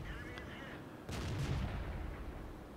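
A tank cannon fires in World of Tanks, with a single loud boom about a second in, followed by a rumbling tail over steady game background noise.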